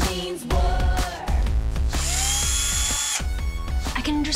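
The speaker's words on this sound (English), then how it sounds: "I can understand now why men love power drills." A power drill runs loud and close in bursts, its motor whining steadily with brief stops and restarts, almost no talk over it.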